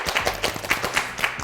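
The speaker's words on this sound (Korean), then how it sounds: "박수!" Sharp, close hand claps in a lively promotional show for Incheon elementary school students. Repeated claps land in a quick, fairly regular rhythm throughout, loud and with no talk.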